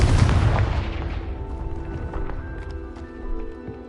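A loud fiery blast from a Confringo spell in the Hogwarts Legacy video game hits at once and then rolls off into a rumbling, crackling decay with ringing tones.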